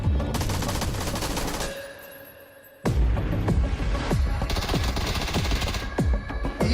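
Automatic gunfire in the battle royale game PUBG rattles in rapid, loud bursts, stops briefly for a quieter gap, then resumes as dense repeated shots close by.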